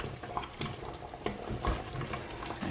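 Tomato paste is being stirred into chicken pieces cooking in a pot for Ghana chicken light soup, giving soft scraping and gentle sizzling, quiet and close, with irregular spoon strokes and no voices.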